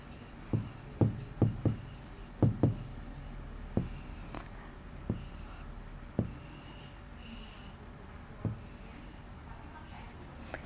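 A pencil sketching a rough square construction on paper during a geometry lesson, with a run of short, scratchy strokes and taps close up, each one distinct and spaced irregularly, and no one speaking.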